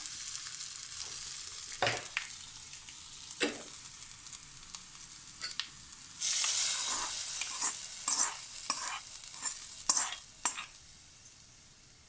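Fried onion tempering tipped into a cooked dish of moong dal and banana flower bursts into a loud sizzle midway, with scattered stirring and clanking pan knocks before and after.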